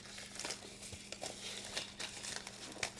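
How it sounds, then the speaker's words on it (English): A plastic bag being slit open with a small balisong knife while unboxing, giving steady crinkling and tearing rustles with a few sharper crackles, close and alone. "So today we're going to use our Amazon unboxing knife, our little balisong. We're going to cut into this bag."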